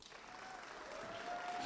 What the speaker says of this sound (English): That's a lovely round of applause.